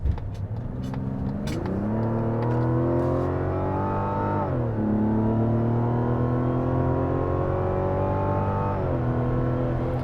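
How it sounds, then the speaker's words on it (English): A Mazda CX-90 SUV engine revs up in a smooth, steady climb, easing off and pulling again in several long surges, close and continuous. "The engine sounds good."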